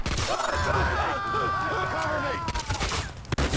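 Grenades explode in a 2002 PC shooter game, with a dense barrage of cracking blasts and shattering debris, loud and close, while someone speaks over the chaos.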